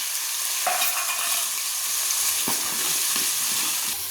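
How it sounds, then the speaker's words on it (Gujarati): Cumin with garlic and ginger paste fries in a hot pan with a steady, close, loud sizzle and a few scrapes of stirring. "જીરું નાખી દીધું। હવે આપણે નાખીશું લસણ અને આદુની પેસ્ટ ફટાફટ।"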